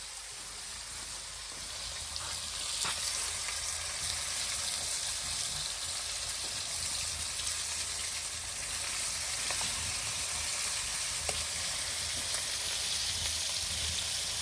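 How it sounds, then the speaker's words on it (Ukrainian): Carp frying in a hot pan: food sizzles and crackles steadily, a continuous frying hiss with occasional sharper pops, no voices. "і хай смажиться"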